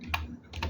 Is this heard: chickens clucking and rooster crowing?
no